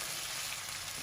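Chicken deep-frying in hot oil gives a steady, dense sizzle at low level, continuous and without any talk.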